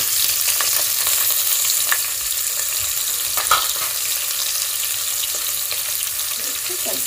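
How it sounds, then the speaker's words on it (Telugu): Mustard seeds, cumin and sliced onions fry in hot oil in a pan for an aloo drumstick gravy, a steady close sizzle with occasional soft stirring scrapes and clicks throughout, no voice over it. "మంచిగా ఆయిల్ వేసుకున్నాం. ఇప్పుడు ఇందులోకి ఆవాలు, జీలకర్ర 1 స్పూన్, అలాగే 2 గడ్డలు ఉల్లిపాయలు"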